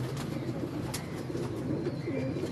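A Teddy pigeon coos in soft, low, rolling phrases close by on a rooftop loft, with steady background noise throughout.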